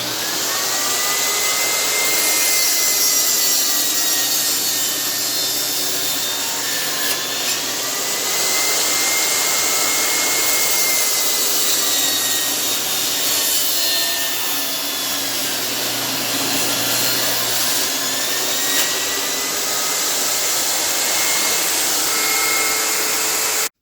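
Wood blocks being sawn into small squares with a power saw, a loud steady whine running without pause and rising and dipping slightly in pitch as each cut is made, no voices.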